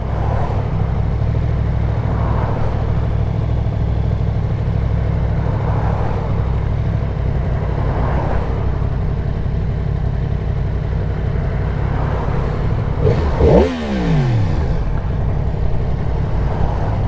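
A 2022 Yamaha MT-10 motorcycle engine runs loud and close in a continuous low rumble that swells gently several times, ending with a quick sharp rev near the finish.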